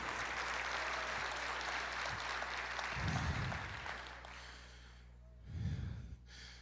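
Church congregation applauding during a worship service, two short bursts of clapping around the middle and near the end, fairly faint against a hum and steady room noise.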